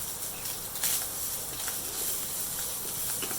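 Chopped coconut roasting in a pan gives a steady, soft hiss with faint crackles and light scraping, continuous and close, with no voices.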